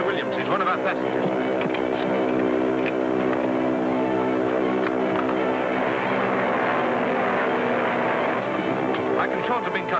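Propeller airplane droning steadily in flight, a continuous engine hum running beneath people talking throughout.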